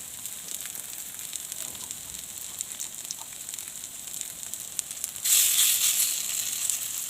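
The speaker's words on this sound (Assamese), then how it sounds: "বৰা ভাজিলে একচুৱেলি কম তেলে দিয়ে ভাজিব লাগে।" Pumpkin-leaf fritters fry in a small amount of oil with a soft, crackling sizzle that runs steadily throughout, then grows noticeably louder and fuller near the end.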